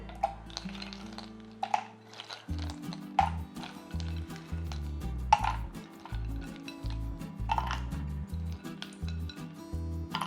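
A spoon stirs masala soda with ice in a glass, giving a run of light clinks and taps over a low steady hum, close and fairly quiet.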